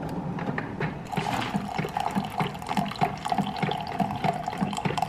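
A coffee maker brews a 12-ounce cup of pumpkin spice coffee, a close gurgling, bubbling trickle of liquid with irregular spurts over a steady low hiss.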